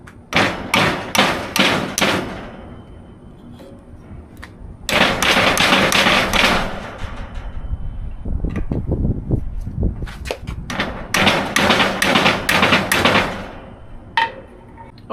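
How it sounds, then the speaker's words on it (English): A hammer strikes the old front differential seal on a 1999–2006 Mitsubishi Montero/Pajero, with rapid clusters of sharp metallic taps in repeated bursts separated by brief pauses. The blows are close and fairly loud. "Actually, let's take the hammer and try that."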